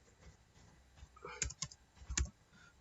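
Faint, sparse taps on a computer keyboard while editing a Blogspot blog footer, a few isolated clicks and a couple of clustered keystrokes in a quiet room.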